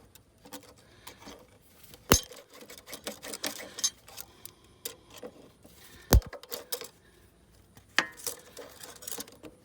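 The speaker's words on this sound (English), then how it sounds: "This will release these clamps. I will have to come through and cut all these zip ties off to relieve the pressure" Metallic clicks, snaps and scraping as clamps are released and zip ties are cut from a truck's EGR cooler crossover tube during a roadside repair, with a few sharp loud snaps among irregular close-up handling noises.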